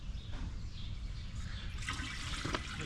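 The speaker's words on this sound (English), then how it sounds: "we're going to go ahead and throw a little bit of water in here" Water is poured into the cylinder of a 100-year-old Taylor Model B vacuum engine, a steady trickling splash over a low background rumble that grows brighter and more gurgly partway through.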